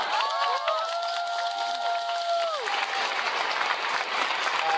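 Audience applause and crowd noise fill a curtain call at a Cantonese opera, steady and dense throughout, with a few sustained tonal notes drifting over the clapping early on.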